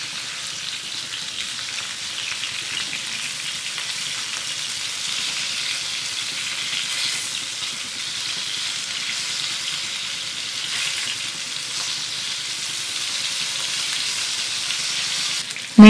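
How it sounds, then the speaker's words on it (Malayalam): Masala-coated fish pieces fry in hot oil, a steady, even sizzle that holds close and loud throughout with no talking, ending in a brief knock at the very end. "ചൂടായ എണ്ണയിലേക്ക് മസാല പുരട്ടി വെച്ചിരിക്കുന്ന മീൻ കുറേശ്ശെയായിട്ട് നമുക്ക് ഇട്ട് കൊടുക്കാം."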